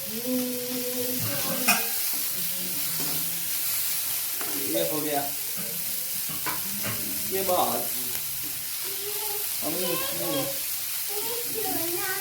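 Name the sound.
vegetables frying for sandwich filling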